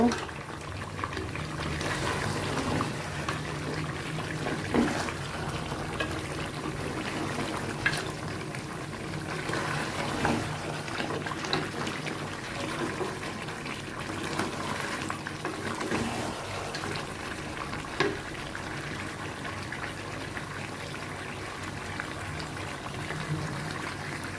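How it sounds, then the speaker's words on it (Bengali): Water added to a pot of braised beef curry as it simmers, giving a soft, continuous bubbling and pouring wash at moderate distance, with a person talking over it. "তো আমি এই যে পানি দিয়ে দিলাম ঝোলের জন্য, কষানো শেষ।"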